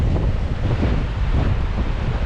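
A strong north wind blows across a Florida beach on the Gulf, a steady loud roar buffeting the microphone with surf churning underneath and no voices.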